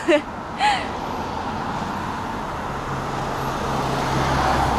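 A car turning around nearby on a road in the Carpathians, a low steady engine rumble with road noise, brief voices at the start.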